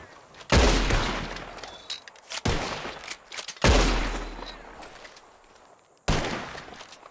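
Shotgun blasts fired at flying birds in the Red Dead Redemption 2 video game: four loud, close booms spaced a second or more apart, each with a long fading tail.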